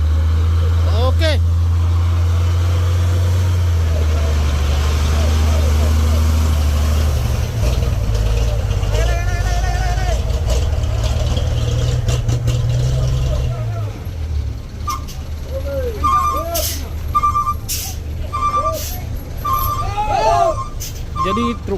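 A diesel truck with a broken axle idles with a low, steady rumble on a hill, joined by clanks, beeps and other traffic noise as the engine note fades.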